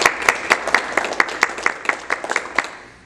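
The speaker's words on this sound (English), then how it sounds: "let's give these young ladies a round of applause" Applause at a county school board meeting honoring high school track athletes, a short burst of several people clapping in an uneven rhythm that fades out after about three seconds.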